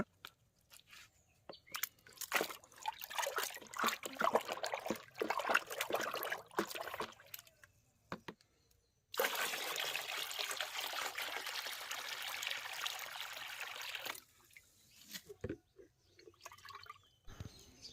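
Water pours into a watermelon mixture meant as a feed for rose plants, heard as irregular splashing and trickling, then a steady continuous pour for several seconds before a few final drips, close up.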